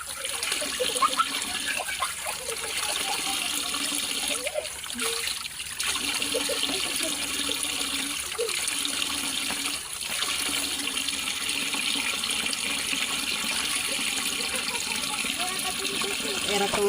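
Water runs steadily for bathing, a continuous broadband splashing rush at close range, holding an even level throughout with a few faint knocks and murmurs underneath.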